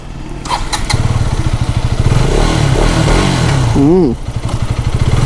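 A 2025 KTM Adventure 250 motorcycle starts up close by with a short starter whir and then settles into a loud, steady single-cylinder idle, blipped once near the end. A rider talks over it.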